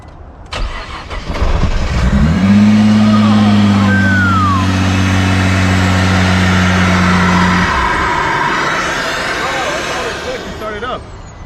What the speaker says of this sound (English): Look how it fires up. Ready? Like a regular GTR.